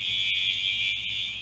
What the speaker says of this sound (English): This alarm's getting closer.